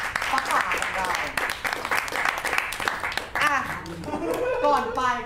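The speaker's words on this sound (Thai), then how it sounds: "ขอเสียงปรบมือให้กับป้าป๋าป้าป๋าของเราอ่ะ" A small group claps during a Thai TikTok live stream, the clapping mixed with chuckles and an ongoing voice that talks over the patter throughout.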